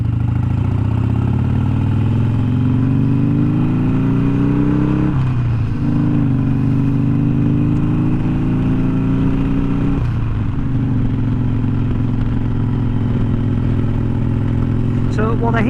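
A Harley-Davidson Iron 883 with Progressive 412 rear shocks rides a badly maintained rough road, its engine droning loud and close with a few gear-change dips, wind rush and rattling over the bumps throughout.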